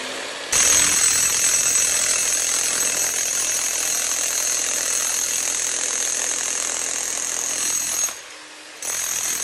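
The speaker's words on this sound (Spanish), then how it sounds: "Y ahora sí, empezamos a perforar." A loud, continuous power drill or rotary hammer bores into a wall to recess an electrical load center, a harsh high whine running steadily for several seconds before a brief pause and restart, with no talk.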